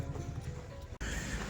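Horses scuffling and fighting at a snowy ski park in Bakuriani, Georgia: steady hoof clatter and stamping, with a snort or whinny, close and loud, briefly cutting out near the middle before resuming.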